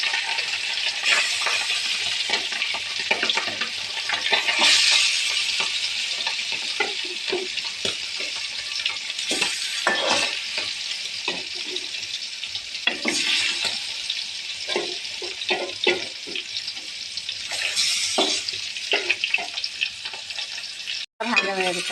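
Food frying in a pan on a home stove, a continuous close crackling sizzle with scattered metallic stirring clinks and scrapes, little speech.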